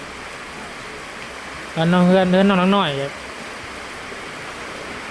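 Steady rain falls throughout during a rainy-season house build in rural Thailand, a soft constant hiss, with a brief burst of talk in the middle.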